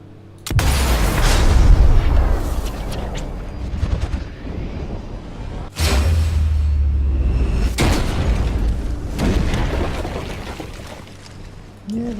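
Rifle shot in a shooter video game aimed at a crane pulley, followed by heavy booming crashes and rumbling impacts, with a second loud boom midway and sustained roaring debris noise throughout.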